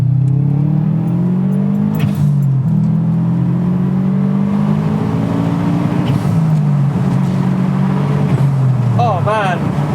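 A Subaru WRX STi Bug Eye with an EJ207 engine drives down a road. The flat-four drones loud and near, rising and falling through several rev sweeps, and there is some faint talk inside the cabin.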